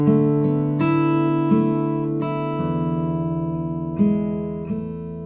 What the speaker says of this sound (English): Now for the D and the E, we're gonna change the arpeggio again